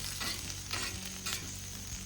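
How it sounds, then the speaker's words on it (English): Potatoes fry in a little oil on a homemade grill, a steady close sizzle with periodic scraping and stirring bursts, no talking. "I'm frying these potatoes and no stick"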